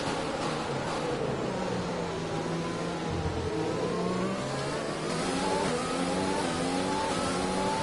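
Formula 1 cars at the start of the Italian Grand Prix in F1 2020, several engines roaring together with rising and falling whines as they accelerate, loud and sustained, no talk.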